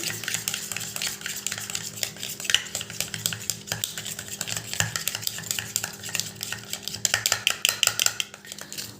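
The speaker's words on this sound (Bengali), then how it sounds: "আমি এই নারকেল তেলের সাথে ভালো করে মিশিয়ে নিচ্ছি।" A spoon stirs aloe vera gel into coconut oil in a small bowl, giving close, continuous scraping with quick metallic clinks that grow sharper and more rhythmic toward the end.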